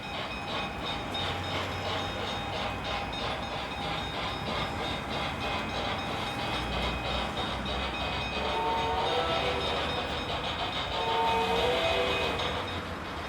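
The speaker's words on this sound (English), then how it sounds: "T1 number 5513 is leaving Columbus with a hotshot mail train to Pittsburgh" An HO scale model steam locomotive, a T1, rumbles steadily along the track with continuous mechanical clatter and faint whistle-like tones, no voices.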